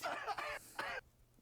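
A woman with a lingering cough lets out two or three quick, close, dry coughs and a throat clear in rapid succession, then falls into near silence.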